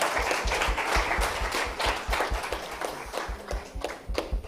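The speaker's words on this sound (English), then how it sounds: "she deserves a round of applause from all of us" Applause for the Master of Ceremony at an international sustainability education conference closing ceremony: a modest room of clapping with some distinct hand claps standing out, steady for a few seconds, then thinning.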